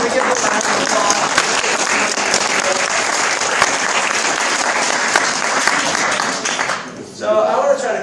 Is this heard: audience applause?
yes